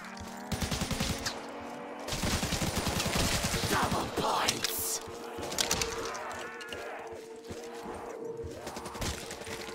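Death Machine minigun firing in a zombies video game on a new maze map, rapid bursts of automatic gunfire with game effects and explosions, loud and close, ending in quieter game noise.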